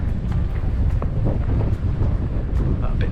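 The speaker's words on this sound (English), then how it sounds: "a bit breezy." Breezy wind buffets the microphone on a misty coastal footpath near a lighthouse and cove, a steady low rumble with gusty surges throughout.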